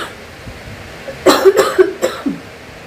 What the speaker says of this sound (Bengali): কথা বললেই কাশি হচ্ছে